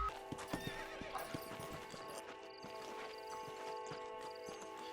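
Horse hooves clip-clop in a quick gallop while a horse whinnies, in the video game Red Dead Redemption, set against a steady game soundtrack with tonal music.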